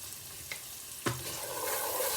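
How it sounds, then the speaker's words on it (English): Sauce ingredients with parsley sautéing in a pan, a steady close sizzle with a few stirring scrapes and one sharp clank of a utensil near the middle. "Let us saute"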